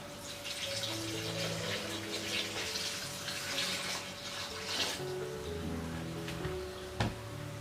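Mature coconut water, one liter, poured into a cooking pot for Indonesian beef gepuk: a steady, continuous splashing pour with a brief louder splash near the end.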